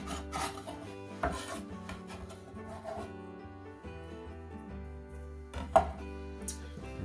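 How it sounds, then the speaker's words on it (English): A knife mincing fresh basil and parsley on a board in a kitchen, a soft irregular chopping and scraping run with a few sharper knocks, quiet and close, with no talk over it. "We are just going to mince these up and toss it in as well."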